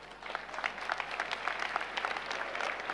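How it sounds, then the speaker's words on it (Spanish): A church congregation applauds together, a dense, steady wash of many hands clapping at moderate distance for the full length, with no voices standing out. "Vamos a aplaudir a Jesucristo."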